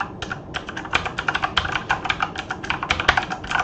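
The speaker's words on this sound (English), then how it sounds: "It's very loud. It's a mechanical keyboard." Rapid, loud clacking of keys on a mechanical keyboard, irregular bursts of sharp clicks typed close up without pause.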